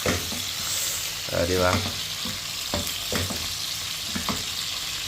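Garlic sizzles and fries steadily in a pan alongside dried fish, a constant close crackle with occasional stirring, while a voice speaks briefly over it.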